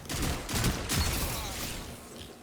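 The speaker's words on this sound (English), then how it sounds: "So what I did is I switched to this auto rifle." An auto rifle fires in the game Destiny, a fast cluster of close, loud shots running together over the first second before tapering into a fading echo.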